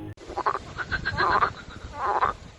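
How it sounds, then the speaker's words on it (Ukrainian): Frogs croak in a swamp in the video game STALKER 2, a chorus of rapid rattling croaks in a few close bursts over steady ambient background. "Ще можна побачити, що в болоті живуть жаби"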